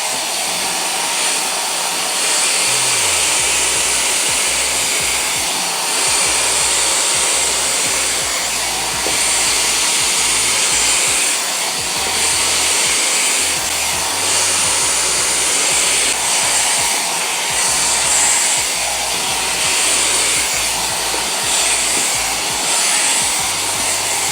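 A Tymo Airhype hair dryer brush runs steadily at close range with a continuous loud whooshing roar and a low motor hum, holding the same level throughout with no talking.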